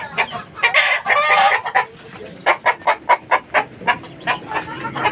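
Chickens and young chicks clucking close by: a dense stretch of overlapping calls, then a steady run of short, evenly spaced clucks and peeps.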